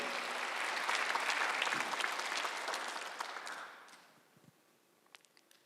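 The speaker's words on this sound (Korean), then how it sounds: "박수 한번 해서" A Sunday worship congregation at a church applauds together, a full, steady burst of clapping that holds for nearly four seconds and then dies away into quiet room noise with a few stray sounds.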